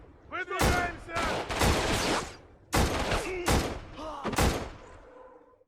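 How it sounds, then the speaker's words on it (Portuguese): Video game gunfire rings out in several loud, sharp bursts with short gaps between them, and voices talk over and between the shots. "Dá um tiro mesmo na cabeça dele."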